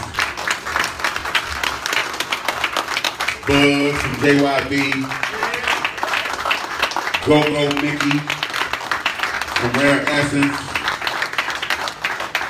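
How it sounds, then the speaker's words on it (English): Audience applause for Hall of Famers at a go-go music gathering, continuous clapping running underneath a man announcing names over a microphone. "let's give them a round of applause"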